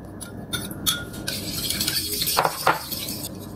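A spoon stirs a wet croissant dough mixture of ice water, instant yeast and beaten egg in a bowl, giving scraping, clinking strokes in uneven bursts, close and fairly quiet, with no voices.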